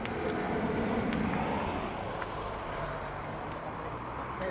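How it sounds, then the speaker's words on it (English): A Ryanair Boeing 737 arriving from Faro at Dublin Airport gives a steady, broad jet roar at moderate distance that holds even throughout, with no talk over it. "Next up, we have a Ryanair coming in from Faro."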